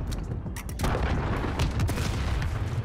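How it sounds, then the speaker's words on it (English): A cruise missile explosion in Call of Duty Modern Warfare booms out loud and close, then a dense rumbling roar that holds for a few seconds with no talk over it. "Enemy cruise missile incoming."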